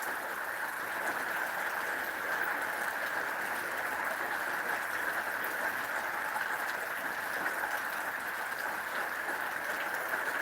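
Pouring rain drums on an RV roof at a campground, a constant, loud, close hiss of dense drops with no let-up across the whole stretch.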